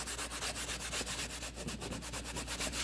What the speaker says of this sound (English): But I'm having to do a lot of scrubbing.